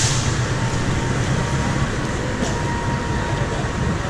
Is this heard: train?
yes